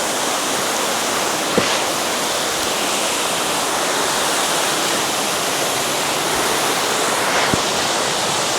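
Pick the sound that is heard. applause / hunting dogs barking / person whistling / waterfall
waterfall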